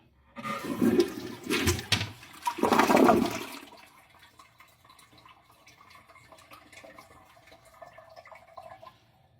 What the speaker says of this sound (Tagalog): Let's start to flush the toilet.